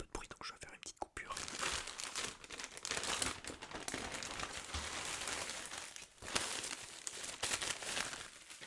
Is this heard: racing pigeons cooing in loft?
no